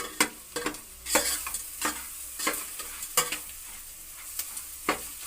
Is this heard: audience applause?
no